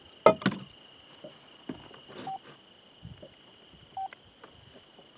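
A kitchen or lab timer gives two short electronic beeps as it is started, spaced a few seconds apart, amid light handling clatter and small knocks during ore extraction testing.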